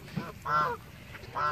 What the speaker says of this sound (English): They're angry.